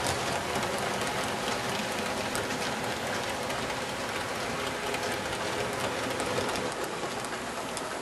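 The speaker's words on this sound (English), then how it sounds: "The Northwestern freight train coming around right behind it." An HO scale model Northwestern freight train runs on a layout, giving a continuous, even, close whirring rattle of small wheels on track that holds steady without pause.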